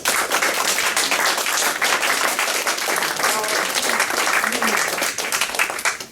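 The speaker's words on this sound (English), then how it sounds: "So a round of applause for the parents." A crowd at a high school boys varsity soccer senior night applauds the parents, dense continuous clapping that stays loud and even throughout.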